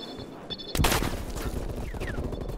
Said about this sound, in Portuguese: Alguém atirou em mim.